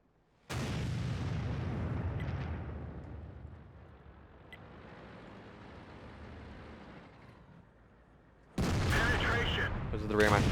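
Tank cannon fire in the World of Tanks video game, with a T95E6 in battle: a loud booming shot that trails off into a long rumbling decay, then a second sharp blast near the end.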